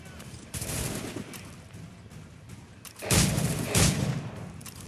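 Video game gunfire comes in several rapid bursts, with heavier booming shots near the end, loud and close and somewhat layered.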